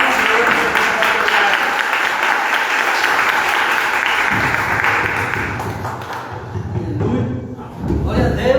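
Church congregation clapping in praise during a worship service, a sustained full round of applause that fades and gives way to voices and a few scattered claps.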